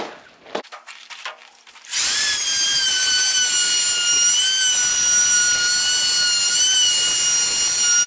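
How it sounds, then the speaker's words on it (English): A router cuts the edge profile along shiplap door boards, a loud sustained high-pitched whine that starts abruptly after a couple of seconds of faint knocks and handling noise, then holds steady to the end. "I'll reset my router to my depth, flip it over, and we'll run this side."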